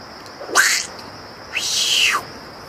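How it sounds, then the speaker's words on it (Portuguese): A small ocelot in a city park in Belém gives two distinct calls, a short cry then a longer drawn-out one, fairly close and clear over quiet background. "Uma pequena jaguatirica. Um gato grande."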